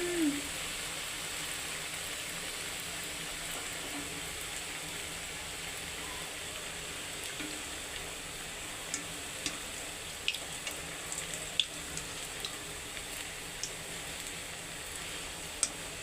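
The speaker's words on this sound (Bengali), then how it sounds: "পিঠেগুলো সব ফ্রাই করব সর্ষে তেল দিয়ে বন্ধুরা" Nickel pithe frying in mustard oil in a Bengali kitchen in Kolkata, a steady bright sizzle throughout with faint small pops and taps of a utensil, close and continuous with no talking.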